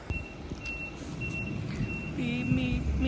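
A tow truck reversing outdoors sounds its beeper in a clear steady series of high tones over a low engine rumble. The beeps are fairly close and keep going as the truck noise grows louder toward the end.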